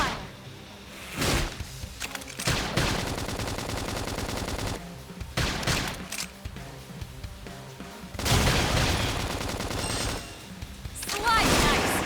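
Bursts of rapid gunfire and impacts in Xenoblade Chronicles X: Definitive Edition come in loud waves separated by quieter gaps, with a busy, layered action soundtrack.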